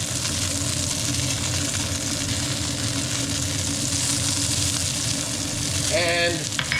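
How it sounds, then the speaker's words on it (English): Golden onions frying with a sprinkle of brown sugar in a pan, a steady close sizzle under a low hum, with a brief clink of a utensil near the end. "our onions are getting nice and golden. Now what we want to do is sprinkle them with the brown sugar"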